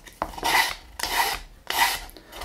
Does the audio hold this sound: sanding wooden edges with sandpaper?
yes